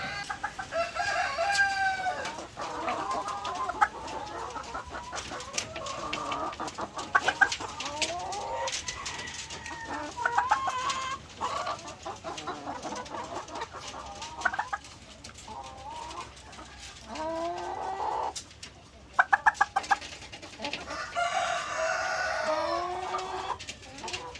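Many egg-laying hens cluck and squawk close by in a busy chorus, with a rooster crowing loudly near the end.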